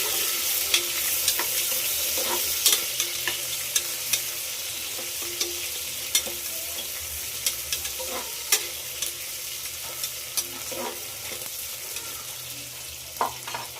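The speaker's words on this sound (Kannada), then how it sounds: "ಈಗ ಈರುಳ್ಳಿಯನ್ನು ಹಾಕೋಣ. ಕೆಂಪ ಕಲರ್ ಬರೋವಾಗ ಫ್ರೈ ಮಾಡಬೇಕು," Onions frying and being stirred in a pan after green chillies, a steady close sizzle broken by frequent sharp scrapes and clicks of a spatula, with no talking.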